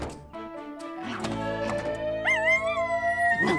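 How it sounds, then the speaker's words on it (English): A puppy howls and whimpers along with a rising and falling toy siren, up close in a cartoon scene. The siren wails steadily and the dog's yips break in over it. "I think Bentley likes Rumble's new siren."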